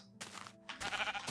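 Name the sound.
sheep bleating in Minecraft, video game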